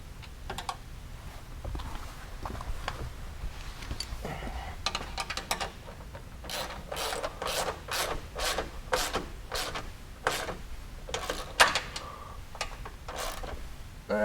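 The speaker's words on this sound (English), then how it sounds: "just turn it until your wrench flats fall into place, and then tighten it down." Wrench tightening nut plate bolts on a UHMW skid plate for a 2019 Polaris Ranger 1000 Crew: a run of sharp, close ratcheting clicks and metallic taps in an irregular rhythm, without talk.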